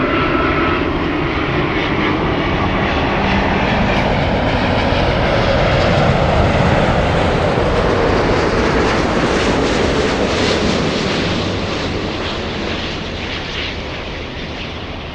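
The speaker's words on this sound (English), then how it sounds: "this is Delta with its A350 flying" Delta Airbus A350 airliner arriving at LAX from Haneda, a loud, steady broadband jet engine roar that holds for the whole stretch and eases slightly toward the end.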